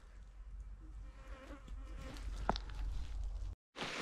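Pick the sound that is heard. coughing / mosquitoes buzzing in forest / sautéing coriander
mosquitoes buzzing in forest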